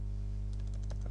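Typing on a computer keyboard, a quick run of light key clicks over a steady electrical hum, close and fairly soft.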